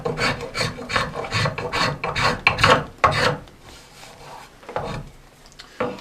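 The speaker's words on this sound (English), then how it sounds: "you can come back in here to Spokeshav and just do this final" A spokeshave smooths and shapes a wooden adze handle in a run of quick rasping strokes, close and fairly loud, then slows to a few softer, spaced passes with no talking.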